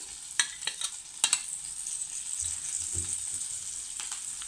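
Green chilli hitting about three tablespoons of hot oil, a soft steady sizzle with a few light stirring taps, close and fairly quiet.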